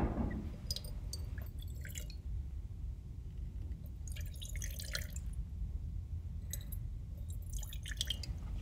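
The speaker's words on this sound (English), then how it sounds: "a clear liquid is going to be poured into 6 beakers" Clear liquid poured into six beakers in a classroom acids-and-bases demonstration, a series of soft trickling and dripping splashes in separate bursts over a low steady background hum.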